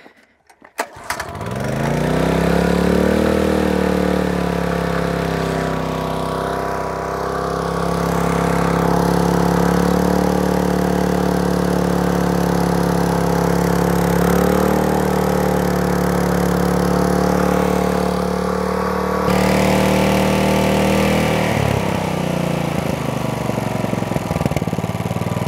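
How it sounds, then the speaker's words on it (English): A Honda GX petrol engine on a traditional circular sawmill under restoration starts and runs steadily, a loud close chugging drone whose pitch shifts slightly as the throttle changes. "The engine is running really well."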